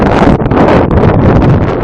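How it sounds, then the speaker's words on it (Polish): Loud, steady wind buffeting the microphone in the countryside, a dense low roar that barely lets up across the whole stretch. "Może to widać w moich włosach okropny wiatr."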